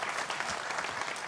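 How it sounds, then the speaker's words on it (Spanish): A studio audience at a Canarian folk music TV show applauds steadily, a dense, even wash of clapping with no voices over it. "te vamos a dar este aplauso"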